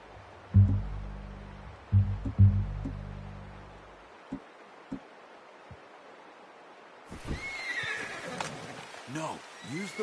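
A horse in a video game gives several loud, close neighs and whinnies in quick succession, then quieter hoof sounds and rustling, with a voice talking over the later part.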